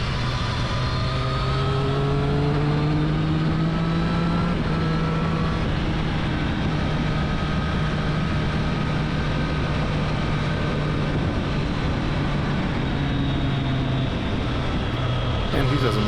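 A Triumph Street Triple RS motorcycle engine drones steadily and loudly through a test ride, its pitch rising and falling gently with throttle over constant wind rush.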